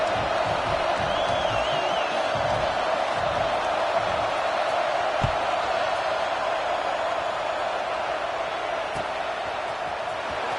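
A large football stadium crowd makes a steady, dense roar and murmur throughout, with faint shouts and whistles rising out of the wash of noise.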